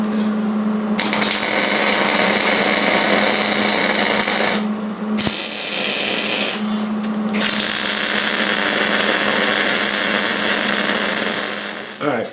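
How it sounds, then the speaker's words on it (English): Continuous loud welder buzz and crackle while welding a cast metal piece, with a couple of brief pauses in the arc, steady and close throughout. "shut the welder off here for a few minutes so we could talk"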